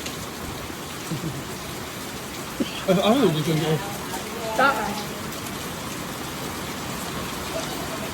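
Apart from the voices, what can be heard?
heavy rain pouring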